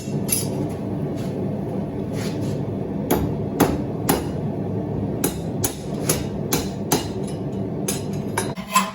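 A hammer strikes hot square steel stock while a pair of tongs is forged, giving sharp metallic blows at an irregular pace. The strikes ring out clearly over a steady background hum, with no talking.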